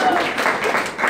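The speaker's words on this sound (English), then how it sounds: "can we just give a big round of applause to just celebrate 25 years" Steady applause from a crowd at a 25th-anniversary celebration, a dense wash of clapping filling the whole moment without pause.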